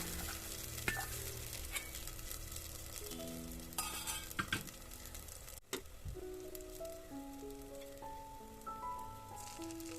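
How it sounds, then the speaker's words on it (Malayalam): Rice and banana batter hits a hot pan and sizzles steadily for the full length, with scraping and stirring touches over a broad, fairly quiet frying hiss and no talking. "ഇനി ഇത് ഹൈ ഫ്ലെയിമിൽ വെച്ചൊന്ന് ചൂടാക്കി എടുത്തതിന് ശേഷം പിന്നെ നമ്മളെ കൂട്ടി ഇതിലേക്ക് ഒഴിച്ചു കൊടുക്കാം"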